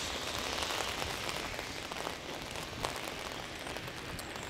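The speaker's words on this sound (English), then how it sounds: "I don't mind the rain. Let it rain." Heavy rain pours steadily during a blustery walk outdoors in North End, a dense, continuous hiss of drops striking surfaces and an umbrella, close and unbroken with no talk.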